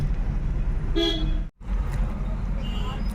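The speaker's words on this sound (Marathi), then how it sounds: "मात्र ट्रॅफिक जाम केलेला आहे" A car horn toots briefly amid road traffic in a jam, heard over the steady rumble of vehicles, with a second fainter honk later and people talking nearby.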